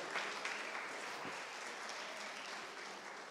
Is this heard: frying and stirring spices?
no